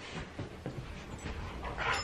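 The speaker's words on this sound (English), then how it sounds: "thinks he's a lap dog" A dog that likes to sit on laps pants close by in quick breathy bursts, with faint whimpers rising near the end.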